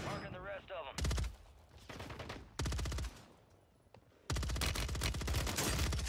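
Automatic gunfire in the shooter game Warzone 3, heard as several loud, rapid bursts separated by short pauses, with a brief electronic chirp at the start.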